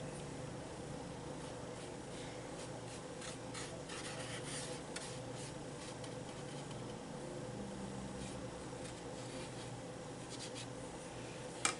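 A paintbrush laying pink paint onto an embossed paper bunny for an Easter craft, giving faint, soft brushing and rubbing strokes in a quiet room.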